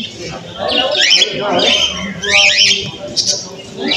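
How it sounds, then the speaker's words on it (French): Male silver doves coo and squawk in a busy aviary at a bird fair, several birds calling over one another at close range. "Encore des colombes argentées, des mâles."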